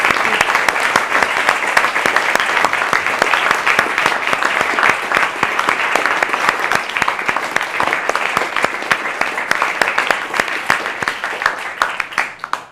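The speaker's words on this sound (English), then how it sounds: "So can we have a big round of applause for everyone?" Loud, dense applause from the audience at the ESU Public Speaking Competition Grand Final, a continuous roar of clapping that holds steady and thins slightly toward the end.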